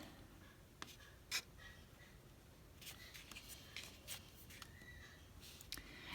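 A pen scratches faintly across the back of a scrap of paper during a toddler heart craft, soft irregular strokes in a quiet room.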